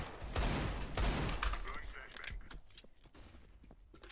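Gunfire rattles in a video game, several loud close bursts of shots in the first half followed by fainter clicks and movement, with people talking over it.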